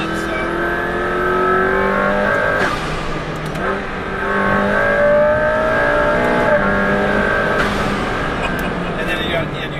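A McLaren P1 engine revs hard under throttle, climbing in pitch through rising and falling sweeps with gear changes, loud and close.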